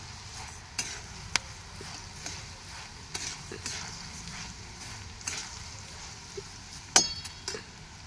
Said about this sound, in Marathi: मस्त धने भाजून घेऊ आता